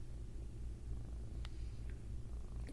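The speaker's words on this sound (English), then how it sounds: "This is what happens when the cat is in your bedroom when you start filming." A pet cat purrs steadily and close in a bedroom, a low continuous rumble with a faint brief click over it.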